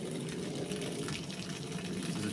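Water from a sump pump discharge line running continuously in a house with water problems, a steady, faint gushing flow with no change and no talking.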